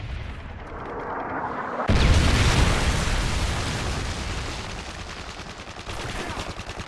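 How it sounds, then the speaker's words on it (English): A Predator missile strike in Modern Warfare 3 hits with a sudden loud blast about two seconds in, then a long rumbling roar of debris and gunfire that slowly fades. "Friendly Predator missile inbound."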